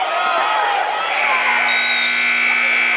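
A loud, steady electronic buzzer sounds in a high school girls' basketball gym, a sustained harsh tone holding for several seconds over faint crowd noise.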